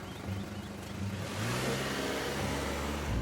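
Old BMW car engine in Scarlet Hollow, starting and revving up into a steady mid-pitched drone over about three seconds.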